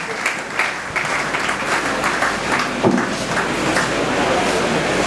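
A crowd at a funeral service applauds loudly, sustained clapping from many hands filling the space for several seconds with no pause.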